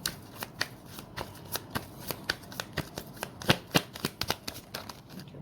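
Tarot cards being shuffled by hand, a steady run of crisp riffling snaps and flicks repeating every fraction of a second, close and clear with no talking.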